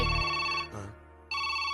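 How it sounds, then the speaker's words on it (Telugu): A telephone bell rings loudly in a steady electronic trill, breaks off briefly, then resumes and continues to the end, alone with no talk. "ఫోన్ రింగ్ అవుతుంది."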